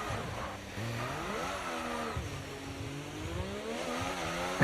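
An F1 race car engine in the video game F1 24 whines steadily, its pitch climbing and dropping through gear changes and revs, moderately loud and continuous with no speech.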